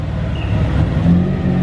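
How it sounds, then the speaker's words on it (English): A rotary-engined BMW E36 idles close by, a steady, even low rumble with a slight throb and no other sounds over it. "And the car is currently idling, as you can hear."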